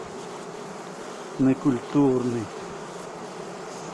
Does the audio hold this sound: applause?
no